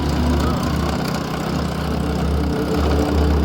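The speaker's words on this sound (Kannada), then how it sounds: "ಹಿಂದೆ ಗಾಡಿ ಬರ್ತಾ ಇದ್ದೀರಾ" A vehicle engine rumbles steadily from behind on the road, a low continuous drone that holds throughout with faint voices underneath.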